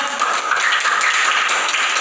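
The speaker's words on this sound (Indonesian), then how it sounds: "Tepuk tangan untuk kita semua" A crowd applauds at a leadership gathering, a dense, even wash of clapping hands that holds steady from start to finish.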